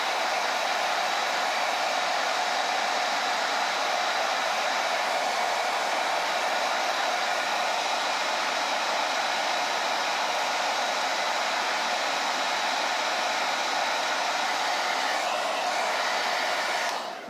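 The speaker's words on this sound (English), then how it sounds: "I'm gonna hit that with a hairdryer." A hair dryer blows steadily on wet paint on a small Christmas craft, a loud continuous close whir that holds constant for the whole stretch and cuts off abruptly at the end.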